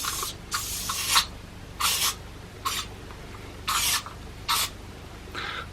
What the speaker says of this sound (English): I'm going to go in with a tiny bit of hairspray